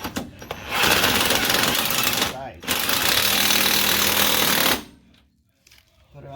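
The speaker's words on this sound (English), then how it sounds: "So now I'm gonna use my impact." An impact wrench tightens a rear shock bolt on a 2006–2011 Honda Civic, giving two long, loud, close hammering bursts split by a brief pause before it falls quiet.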